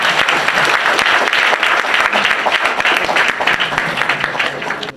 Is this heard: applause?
yes